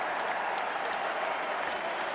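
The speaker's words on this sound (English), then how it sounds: "And listen to the crowd." A stadium crowd at a Commonwealth Games rugby sevens match between Australia and Uganda applauds steadily, a dense, even wash of distant clapping and crowd noise that carries through the whole stretch.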